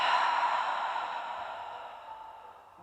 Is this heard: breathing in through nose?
yes